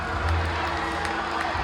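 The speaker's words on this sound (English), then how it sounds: "listen to this crowd" A rugby crowd in Edinburgh cheers after a Springboks win over Scotland, a dense, distant roar of voices with scattered shouts and clapping, steady throughout.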